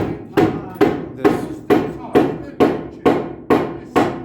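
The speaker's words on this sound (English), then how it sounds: "This oak is so hard, we have to drill it before we can drive nails into it." A hammer drives nails into hard, pre-drilled oak, nine sharp, evenly spaced blows about half a second apart, each ringing briefly, loud and close.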